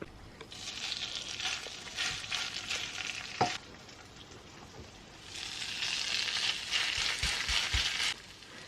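Coconut oil sizzles and spits steadily in a pan frying latkes, rising to a louder, denser fry partway through, with a few soft clanks of utensils.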